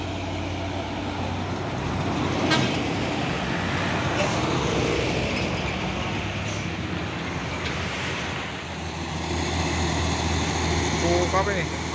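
A Mitsubishi Canter and a Hino 500 truck pass on a road, their engines a steady broadband rumble that swells and eases as each goes by, under ongoing conversation.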